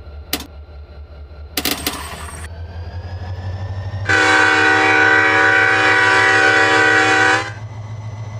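A video game train engine rumbles steadily, with a few sharp clanks early on, then a loud, sustained horn blast lasting several seconds.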